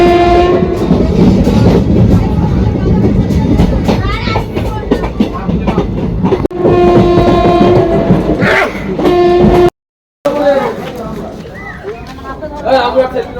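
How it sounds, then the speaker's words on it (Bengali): A train pulls into Rampurhat station on a Howrah to Rampurhat night run, with rumbling wheels, clacking over rail joints and repeated long horn blasts, while people talk and children's voices rise over the noise. "রামপুরহাটে আমাদের এখন ট্রেন ঢুকছে।"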